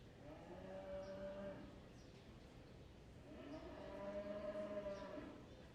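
Hereford cattle moo twice in a 4-H beef show arena, each call a long, drawn-out low bellow with a short quiet gap between, fairly close and moderately loud against the arena's background murmur.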